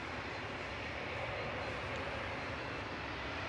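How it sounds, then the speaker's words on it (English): Air Canada airliner departing Manchester Airport for Toronto, a distant, fairly faint and steady engine rumble that stays level throughout, with no voices. "Air Canada departing now"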